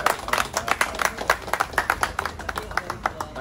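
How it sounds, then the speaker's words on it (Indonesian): A group of children clap their hands at a school event, a quick uneven run of close, fairly loud claps lasting the whole stretch, with some voices underneath. "Lagi ya, tepuk tangannya kurang ya."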